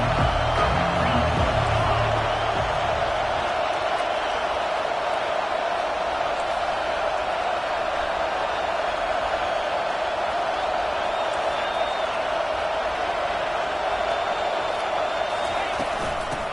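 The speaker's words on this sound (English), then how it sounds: "Here comes this home crowd as the defense tries to get off the field on 3rd down" A home crowd roars steadily through a college football video game as the defense tries to get off the field on third down, a dense, continuous wash of cheering with no break.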